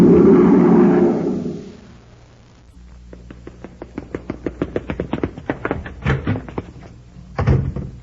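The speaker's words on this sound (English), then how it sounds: "Just Danny Fields rushing out the door to the grocery." Sound effect from a 1953 science-fiction radio drama of someone rushing out a door: a loud rumbling burst gives way to quick, evenly spaced footfalls and knocks, then heavier door thumps near the end.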